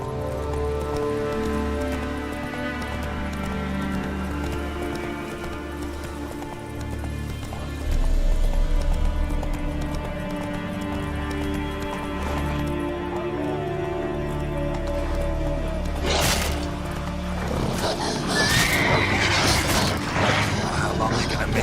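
Roach the horse trots in The Witcher 3 video game, steady clip-clop hoofbeats over a continuous game music and ambience bed, with a couple of sharper bursts later on.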